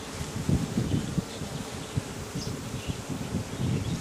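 Honeybees buzz around a clump of wax at an open beehive, a steady, close droning hum with swelling pulses as they move about, and no voices are heard.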